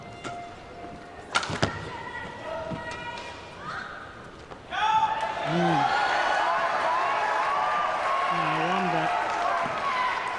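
Spectators at a Thomas Cup men's singles badminton match break into loud cheering and applause midway through, a sustained roar that stays high after a few earlier thuds and murmurs, with a commentator talking over it.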